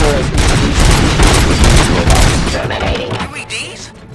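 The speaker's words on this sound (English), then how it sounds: "Gunshots?" Dense bursts of gunfire in the video game Robocop: Rogue City, loud rapid shots and booming impacts overlapping continuously for several seconds.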